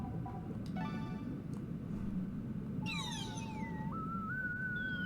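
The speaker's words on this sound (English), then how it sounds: "anything dolphin like, we always use the whistle" A whistle is blown to call dolphins underwater in Endless Ocean: Blue World, starting with short rising chirps and then a longer wavering whistle, set against a low ocean rumble.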